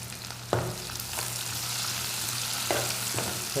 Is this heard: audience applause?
no